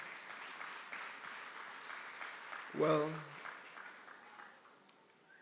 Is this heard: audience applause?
yes